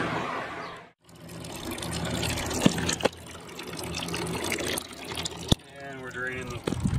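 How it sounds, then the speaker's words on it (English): Coolant, flushed with distilled water, drains from a Honda VFR motorcycle being fixed for overheating, a close gushing and splashing flow with a few sharp knocks and a person talking over part of it. "And we're draining the coolant."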